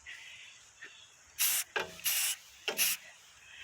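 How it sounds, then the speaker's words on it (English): An aerosol can spray-paints the tongue of a camper outdoors in short, sharp hissing bursts, three or four of them, close and loud against a quiet background. "So as I'm spray painting it, I'm going to continue to move around the camper."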